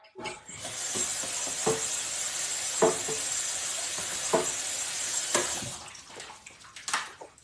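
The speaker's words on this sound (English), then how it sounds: "I've got my rice, I'm just going to rinse it." Rice being rinsed in a Tupperware basket under a running tap, with steady broadband water rush and clattering grains and splashes throughout, fairly close and alone with no talk.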